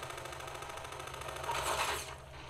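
Rapid enemy gunfire in the video game Station 51, a sustained fusillade of shots aimed at the player, steady throughout and swelling louder near the end.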